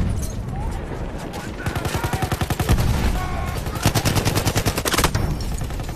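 Rapid automatic gunfire from the Battlefield 1 game, dense bursts of close shots crackling in quick rhythmic strings over a few seconds, loud with overlapping volleys.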